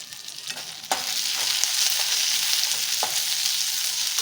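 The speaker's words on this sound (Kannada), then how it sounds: "ಇದೆಲ್ಲ ಚೆನ್ನಾಗಿ ಫ್ರೈ ಮಾಡ್ಕೋಬೇಕು" Ginger and green chillies frying in oil for a mutton curry, a steady close sizzle with light stirring scrapes and a sharper burst near the start, no voices.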